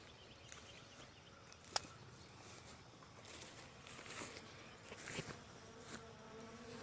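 Honeybees from a captured swarm buzzing around a newly changed hive entrance, a steady faint drone of many insects with louder passes of individual bees drifting close, no talking.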